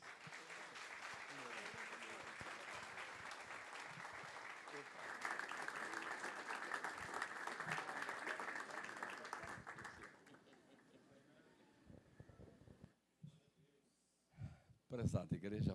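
Church congregation applauding loudly and steadily for about ten seconds, dense clapping that then thins out and fades, with a few scattered claps and voices near the end.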